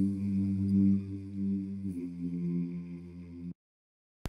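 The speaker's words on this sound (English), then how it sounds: "like a choir, like a male choir in a low register" Low male choir harmonies, four stacked voices in a low register sung without instruments; a steady, sustained chord that shifts once midway, moderately loud and unaccompanied, ending abruptly.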